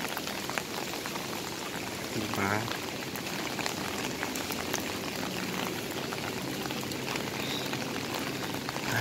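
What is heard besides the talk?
heavy rain pouring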